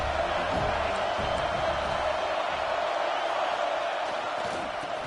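A football stadium crowd roars in a dense, constant wash of noise from a large mass of fans, steady and loud throughout.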